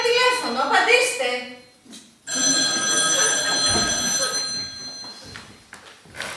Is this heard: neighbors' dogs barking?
no